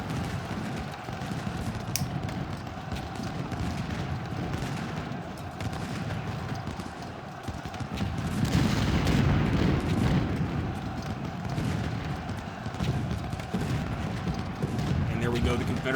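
Civil War artillery and musket gunfire at the Battle of Chickamauga in Ultimate General Civil War, a continuous rattle of distant shots and booms that swells midway, with someone talking over it.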